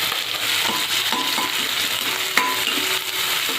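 Onion fries in hot oil with mustard seeds and cumin in a kadai for a potato gravy bhaji. It makes a loud, continuous crackling sizzle with occasional stirring clicks, and nobody speaks.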